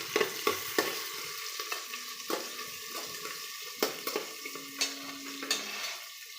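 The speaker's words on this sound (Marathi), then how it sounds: "बारीक चिरलेला कांदा कुकरमध्ये फ्राय करून घेऊ।" Finely chopped onion fries in a pressure cooker, giving a continuous soft sizzle punctuated by repeated scraping and tapping strokes of a spoon stirring against the metal, close and clear with no talking.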